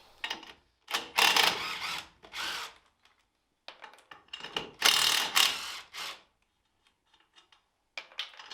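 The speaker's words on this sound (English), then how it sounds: "So we're going to remove the tires so we get a lot of space." A ratchet works on the wheels of a Volvo P1800S during a restoration, giving bursts of rapid mechanical clicking and cranking separated by short pauses, close up with no speech.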